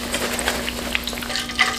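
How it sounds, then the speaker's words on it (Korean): Thin slices of meat fry briefly in a pan of hot oil for Thai khanom pang na mu, with a steady, busy sizzle and crackle that stays close and fairly loud throughout. "고기가 되게 얇잖아요. 금방 익으니까 살짝만 튀기면 될 것 같아요."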